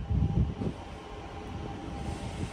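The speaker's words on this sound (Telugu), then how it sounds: "సో ఎగ్జాక్ట్ గా 5:10 కి మన ట్రైన్ అయితే స్టార్ట్ అయిపోయింది బెంగళూరు కంటోన్మెంట్ రైల్వే స్టేషన్ నుంచి" A train pulling out of Bangalore Cantonment railway station, a low rumble and rattle heard from on board, with a few heavier thumps at the start settling into a steady rolling hum.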